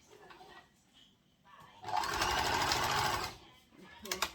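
Sewing machine stitching fabric for a ruffled off-shoulder gathered skirt, one fast whirring run of about a second and a half close by, with quiet handling before and a brief burst at the end.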